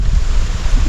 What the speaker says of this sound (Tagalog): Dito lang kami sa tabi-tabi kaya malakas ang hangin eh